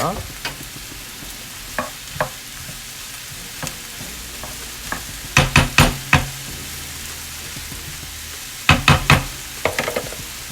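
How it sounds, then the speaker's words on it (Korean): Ingredients stir-fried in oil in a pan for a cream risotto, giving a steady low sizzle broken by sharp clusters of spatula scrapes and knocks against the pan, near and fairly loud, with no voices. "팬에 재료를 다 옮긴 후에 기름을 넣고 볶아줍니다."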